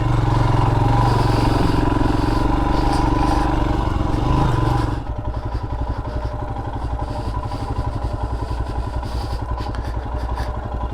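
A Royal Enfield Himalayan motorcycle climbs an off-road hill, its engine loud and close, a heavy rumble under strain that shifts into a rapid, throbbing putter partway through, with a faint voice under it.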